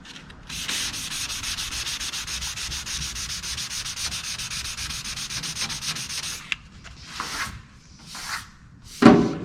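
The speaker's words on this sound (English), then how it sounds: "When you start seeing marks like that, your sandpaper is getting clogged up." Hand sanding with a sheet of sandpaper, a steady close rasping rub for about six seconds, then a few brief scuffs and a louder thump at the end.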